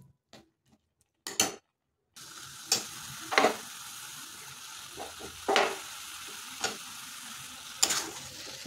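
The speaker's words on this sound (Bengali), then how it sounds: "তারপর এইভাবে করে গুড় আর আমলকিকে ততক্ষণ নাড়তে হবে যতক্ষণ না এটা পুরো আঠালো হয়ে" Jaggery and amla cooked down in a wok until sticky, soft bubbling sizzle broken by sharp scraping and tapping stir strokes every second or so, near and fairly quiet, after a brief silent start.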